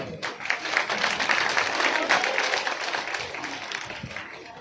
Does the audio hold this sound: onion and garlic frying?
no